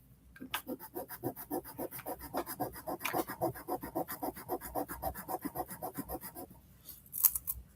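Gold jewelry rubbed back and forth on a touchstone to test its carat, making a steady rhythmic scratching of about twenty quick close strokes, with a brief light clink near the end.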